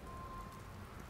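Steady city rain in the video game Watch Dogs, a soft continuous patter of drops on pavement with no voices, a faint thin tone running through the first half.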